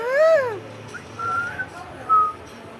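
A pet parrot whistling, a few clear rising and falling whistled notes up close, separated by short pauses.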